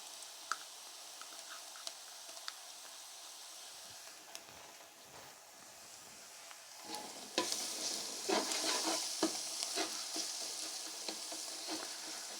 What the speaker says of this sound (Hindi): अभी इस स्टेज पे हमने इंशाल्लाह इसमें अपना लहसुन पेस्ट ऐड कर देना है।